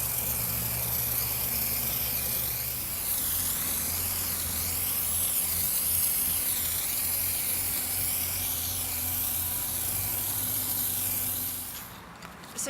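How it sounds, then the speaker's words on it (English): PlastiKote spray paint hissing steadily from an aerosol can onto a wicker garden chair, a loud continuous spray lasting about twelve seconds with a low hum underneath, then stopping abruptly. "Now I'm ready to start spraying."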